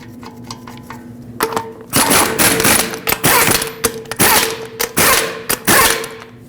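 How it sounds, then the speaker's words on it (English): A torque wrench tightens the lug nuts on a 2009-2015 Honda Pilot front wheel to 94 foot-pounds in a cross pattern, giving a series of sharp, close metallic clicks and ratcheting bursts after a quieter start. "in a cross pattern, we'll torque them to 94 foot-pounds"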